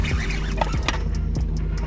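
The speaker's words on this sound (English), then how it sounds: "birds are so weird" Birds call by a small pond with short clucking, chattering notes over a constant low outdoor rumble, fairly close and repeated several times.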